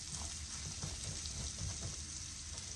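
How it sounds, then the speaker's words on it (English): Vegetables sizzle steadily in a hot frying pan as celery goes in for a seafood stew, a constant close frying hiss with faint stirring movements beneath. "Next, we're going to add our celery."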